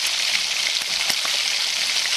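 Young hog plums (amra) are stir-fried in a pan over medium heat without water for a sweet-sour-spicy pickle, a steady close sizzle with occasional soft clicks of stirring.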